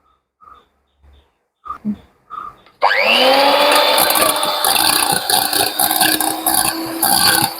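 After a few soft clicks and taps, an electric beater switches on and whips egg whites with powdered sugar for a Christmas plum cake, a loud, steady close whir that continues to the end.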